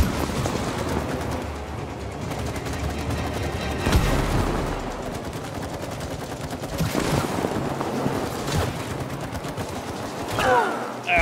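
Rapid, sustained gunfire from It Takes Two, loud bursts rattling over a busy game soundscape with a heavier impact partway through and a sharp burst near the end.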